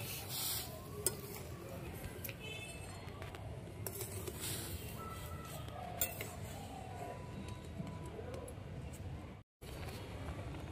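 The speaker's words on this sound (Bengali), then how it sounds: "ডালটা একটু নেড়ে দেবো" A spoon stirs lentil dal simmering in a cooking pot, with scattered metallic clinks and scrapes over a steady bubbling hiss, close and moderately loud, with a brief dropout near the end.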